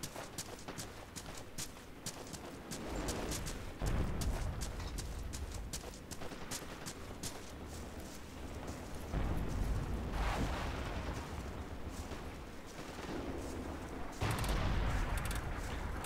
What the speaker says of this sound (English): It's under artillery fire.